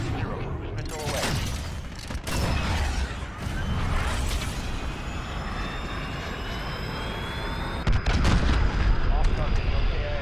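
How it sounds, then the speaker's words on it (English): Cruise missile launch in Call of Duty: Modern Warfare, heard as a sustained roaring jet-like whoosh layered with rumbling booms and distant gunfire, swelling with a sharp crack near the end amid dense battle noise. "Cruise missile away."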